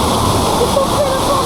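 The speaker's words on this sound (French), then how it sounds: "On va prendre la cascade dans la gueule." Waterfall on a water park boat ride at a Disney water park, a loud, continuous roaring splash filling the whole moment, with faint voices barely rising through it.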